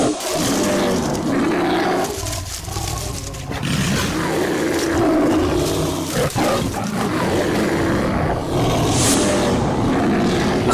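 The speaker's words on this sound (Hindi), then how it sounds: "ये तो बाघ की आवाज है।" A tiger roars in a wild, animal-filled setting, with loud, sustained rumbling growls running through the whole stretch over a dense background of noise.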